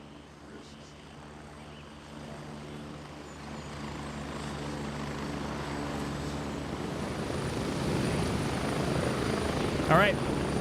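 A helicopter in the video game Gray Zone Warfare drones with a steady rotor and engine rumble that slowly grows louder, while someone talks faintly beneath it.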